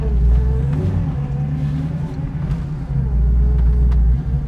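A 1967 Pontiac Firebird idles steadily in a low, continuous engine rumble, with a faint tonal whine from the power steering carried within it. No voices are heard.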